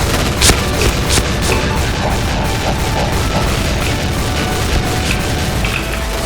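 A shotgun-style machine gun in a video game fires without letup, loud booming blasts packed into a dense, continuous barrage with no pauses.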